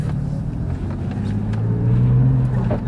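A Porsche 911, bought as the cheapest one in the UK and covered in leaves, pulls away with a low, steady engine rumble that swells as it gains speed, close by with no talking.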